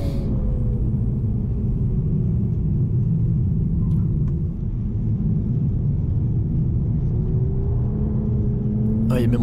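A powerful BMW B58 engine in a Toyota Supra with manual gearbox roars steadily close by, a deep sustained rumble with rising pitch as it accelerates and shifts, loud throughout.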